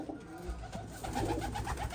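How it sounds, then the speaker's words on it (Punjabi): Pigeons coo softly and repeatedly, a low throaty burbling close by, with faint background noise and no talking. "ਆ ਬੈਠੇ ਕਬੂਤਰ"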